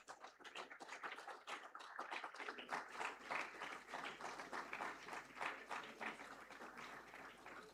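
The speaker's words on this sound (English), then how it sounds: "Can we please have a round of applause?" Audience applause at a school proficiency award ceremony, a mix of scattered and steady clapping from a seated crowd, somewhat distant and soft, continuing for several seconds after an award is announced.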